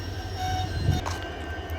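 A small five-coach passenger train rumbles past nearby in a steady low roll, with thin high wheel tones whining faintly above it.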